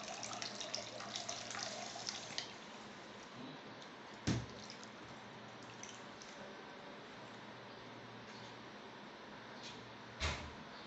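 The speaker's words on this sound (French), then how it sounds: "l'eau que vous avez mis à l'intérieur et qui n'est pas de qualité va couler" Water draining out of a WOSON autoclave, a faint continuous trickling hiss with a low steady hum beneath it and two brief clunks along the way, with no talk.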